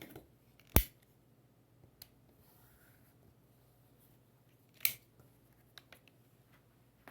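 Scissors snipping quilt fabric to trim a tree-trunk piece in place on a Christmas tree quilt block made from jelly roll scraps. Two sharp close cuts stand out, with a few faint ticks between them in a quiet room.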